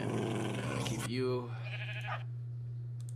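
A Minecraft sheep bleats once, a short wavering call over a steady low background hum, with speech heard just before it.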